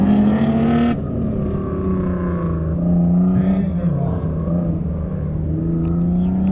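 A BMW and a Mustang launch from the line at an autocross start, their engines revving and droning with rising and falling pitch at moderate distance, while a commentator talks over them.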